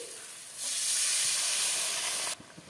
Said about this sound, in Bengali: মশলাটা ভালোভাবে কষানো হয়ে গেছে, দিয়ে দেবো জল 1 বাটি